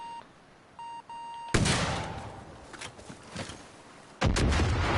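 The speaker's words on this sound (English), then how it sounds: "I underestimated the power of freaking rocket launchers" A video game rocket launcher fires after a few short electronic beeps: a sudden loud blast with a long rumbling tail, then a second heavy explosion near the end, close and forceful.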